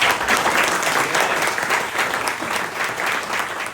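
A church congregation claps steadily at a Filipino worship service, a dense, even wash of applause that holds at full strength for several seconds with no voices over it.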